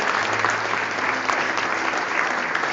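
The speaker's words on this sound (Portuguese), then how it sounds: "Aplauda o Senhor Jesus." A church congregation at a communion service claps together in a dense, continuous roar of applause, loud and close, with no speech over it.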